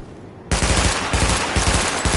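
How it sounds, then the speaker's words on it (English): After a brief quiet moment, rapid automatic gunfire erupts during a weapon test in The Division, a loud, continuous burst of shots close by. "Open fire at the highlighted targets."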